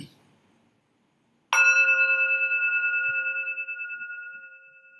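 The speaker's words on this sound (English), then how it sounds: "this is the beginning bell, this is the ending bell" A mindfulness bell struck once after a brief quiet pause, its clear metallic tone ringing out and slowly decaying over several seconds, near and alone.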